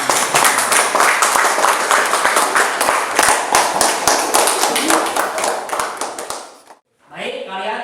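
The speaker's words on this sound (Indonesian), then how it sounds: "Ya, baik, tepuk tangan." Students in a religious-education classroom clap their hands in a loud, dense burst of applause lasting several seconds, cutting off abruptly before a voice speaks.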